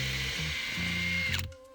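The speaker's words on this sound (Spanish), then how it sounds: "Avellanamos la madera para hacer una guía" A power drill whirs in short pulses while countersinking a pilot guide in the wooden frame of a portable folding lounge chair, stopping abruptly at the end.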